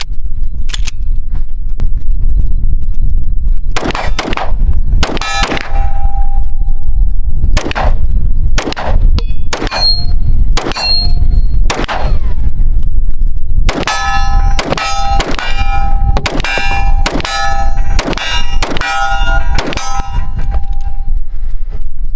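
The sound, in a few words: all-metal striker-fired pistol being fired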